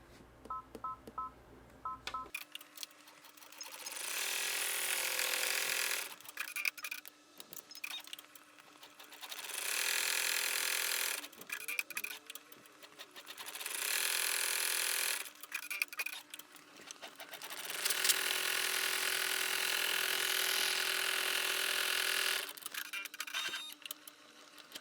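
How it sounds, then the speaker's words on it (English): An embroidery machine stitching metallic gold thread at reduced speed runs in several rhythmic bursts of fast ticking and whirring, separated by short pauses. It opens with a few beeping tones. "So I'm going to slow my machine down a little bit for the metallic."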